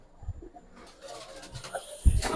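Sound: pigeons cooing

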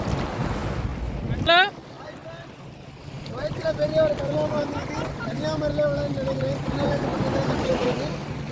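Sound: ocean waves at Mangaf Beach, Kuwait

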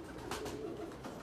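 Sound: racing pigeons at the loft

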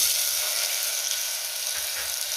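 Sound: mustard seeds, cumin and onion sizzling in hot oil

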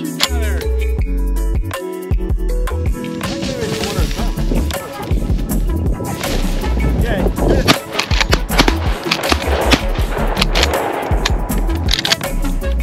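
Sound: shotgun shots at upland game birds

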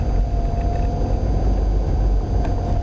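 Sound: car engine idling while driving

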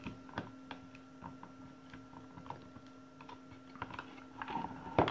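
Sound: tightening terminal screw on circuit breaker

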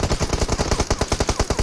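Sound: gunfire in the video game PUBG Mobile

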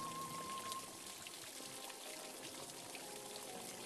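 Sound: water from an old French garden fountain

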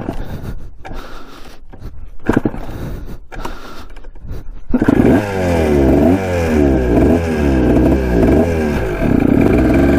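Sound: Kawasaki dirt bike engine running and revving

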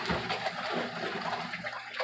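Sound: portable washing machine rinsing clothes

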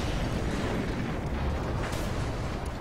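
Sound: explosion in a video game

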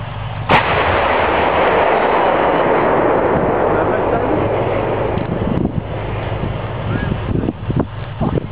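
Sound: artillery guns firing

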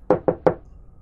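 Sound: knocking on a house door

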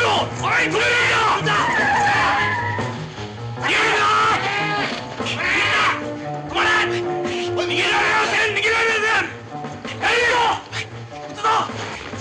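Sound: car skidding

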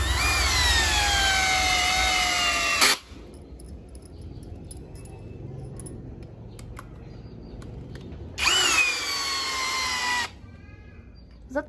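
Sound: cordless drill driving 10 cm wood screws into longan wood

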